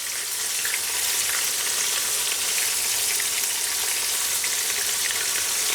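Calamari frying in hot oil at medium-high heat makes a dense, steady bright sizzle, close and continuous with no talk.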